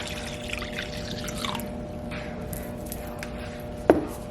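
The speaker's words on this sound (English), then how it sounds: "So what you want to do is pour your milk in." Milk poured into a bowl for cinnamon roll dough, a soft steady liquid trickle over a constant low hum, ending with a sharp clink.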